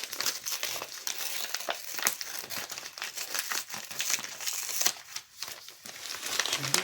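Wrapping paper on a birthday gift package crinkles and crackles steadily as it is torn open up close, a continuous rustle with sharp crisp bursts and no talking over it.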